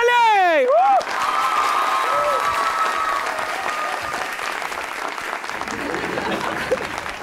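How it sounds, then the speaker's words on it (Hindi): An audience breaks into loud, sustained applause for Fiza Ali on a television show, with a whistle-like sweep at the start and the clapping holding steady throughout. "नाम लिया नहीं फिर भी तालियां बज गई।"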